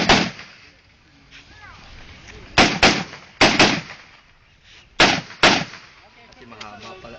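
Gunshots fired on a practical shooting stage ring out as loud, sharp cracks, one near the start and then pairs and quick doubles spaced a couple of seconds apart, with faint background voices between shots.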